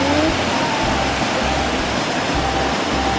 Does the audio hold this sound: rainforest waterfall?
yes